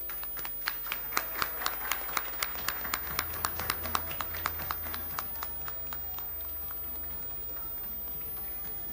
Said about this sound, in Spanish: Le damos un aplauso y la recibimos sobre el escenario